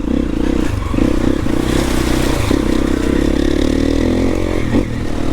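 A 4-stroke enduro motorcycle riding a trail gives a loud, steady engine drone right up close, rising and falling slightly with the throttle, with scattered clatter and scrapes from the ground.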